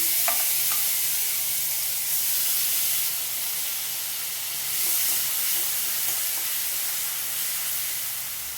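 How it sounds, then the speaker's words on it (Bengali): Garlic paste frying in hot oil after a whole dried red chilli tempering for a Bengali steamed egg dish, giving a steady close sizzle with faint stirring clicks throughout and no talk. "এবারে আমি রসুন বাটাটা দিয়ে দেবো প্রথমে।"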